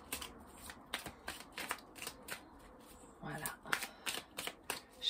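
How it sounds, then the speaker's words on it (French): A deck of cards being shuffled up close, with repeated quick riffles and snaps in an uneven rhythm, then a longer riffle near the end, over quiet room tone with no talking. "Le temps de battre les cartes et d'être dedans."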